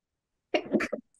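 A single sharp sneeze bursts out abruptly after silence, short and close, among people chatting about a Formula 1 Grand Prix.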